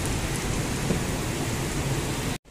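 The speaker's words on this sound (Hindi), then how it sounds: "बहुत जोर से बारिश हुआ है, इतनी जोर से बारिश बहुत दिनों बाद हुआ है" Heavy rain pours down in a steady, dense roar close by, unbroken for over two seconds before cutting off abruptly near the end.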